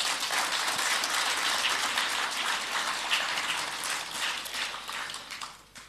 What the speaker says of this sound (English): I'm glad that you applauded